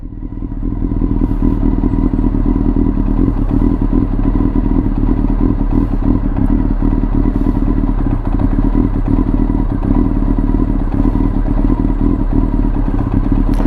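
A Honda CBR400 (NC29) motorcycle engine, left standing over three years, catches and then runs loudly close by, a rough, uneven putter with rattling clatter that holds steady throughout.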